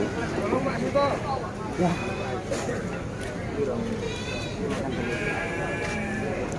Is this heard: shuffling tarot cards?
no